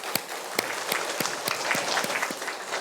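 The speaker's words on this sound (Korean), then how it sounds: "박수하겠습니다." A church congregation claps together in a steady, moderately paced round of applause, the individual claps fairly distinct and not very loud.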